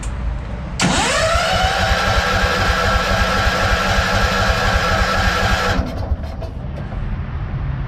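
An Allis Chalmers 410 tractor engine starting for the first time in eight years: a brief crank catches at once, then the engine runs at a steady, loud, buzzing idle for about five seconds before shutting off.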